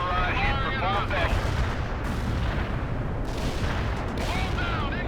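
Artillery barrage explosions in the World in Conflict video game: dense, continuous rumbling blasts fill the whole stretch at steady loudness, with brief tonal radio-like sounds near the start and end.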